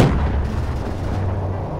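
A grenade blast in Call of Duty: Black Ops 3 booms out as a dense, loud, rumbling explosion that fills the moment with heavy low-end roar, no voices over it.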